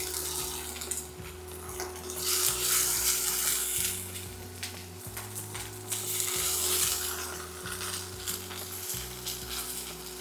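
Pollock fillets sizzling steadily in a hot frying pan, a continuous loud crackling hiss with a low hum underneath and no talking.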